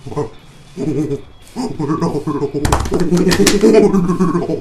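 A person's voice mimics a pigeon's cooing, making repeated throaty, warbling coos close up, with a louder burst of other voices and noise joining partway through.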